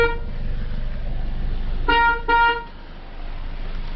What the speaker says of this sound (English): You'll get the dual honk whenever it's successful.